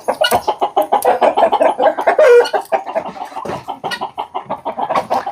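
A mother hen with her brood of chicks clucks loudly and close by, giving a quick run of rhythmic, repeated clucks that continues almost without a break.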